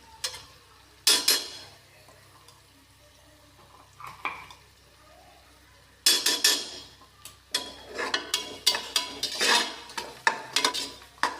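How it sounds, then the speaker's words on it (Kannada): Ginger garlic paste fries in oil with onions for a chicken biryani, heard as intermittent bursts of spoon scraping and clinking against the pan over a low sizzle, growing busier and more rhythmic in the second half. "ಚೆನ್ನಾಗಿ ಫ್ರೈ ಮಾಡ್ಕೊಳ್ಳಿ. ನೋಡಿ, ಶುಂಠಿ ಬೆಳ್ಳುಳ್ಳಿ ಪೇಸ್ಟು 1 ಸ್ಪೂನ್ ಹಾಕ್ತಿದ್ದೀನಿ."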